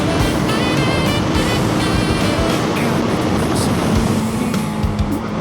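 Riding a motorcycle along a road, heavy steady wind roar and engine drone fill the sound loudly and continuously without a break, no talking.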